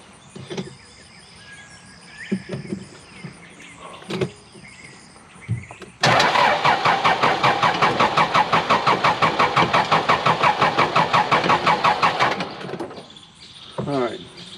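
Honda Pioneer side-by-side engine cranks in a loud, rapid rhythmic starter burst lasting several seconds, preceded by scattered clicks and handling noises and followed by quieter clatter.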